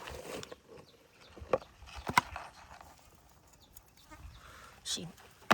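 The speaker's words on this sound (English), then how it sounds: "Sheep." Sheep bleating outdoors, several short, uneven calls at moderate distance, scattered between quiet gaps, with people's voices and exclamations mixed in.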